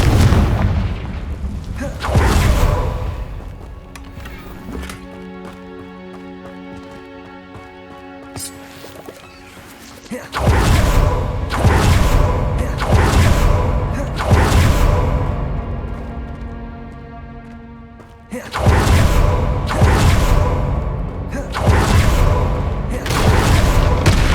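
Bombarda and Confringo spells in Hogwarts Legacy set off heavy booming blasts in repeated bursts. Between the clusters of explosions comes a ringing, tonal magical shimmer.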